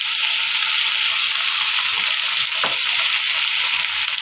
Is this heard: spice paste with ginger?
yes